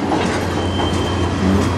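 A Via Rail passenger train runs past at night in Sarnia, Ontario, a steady loud rumble of wheels on rails with faint clickety-clack and a thin high squeal throughout.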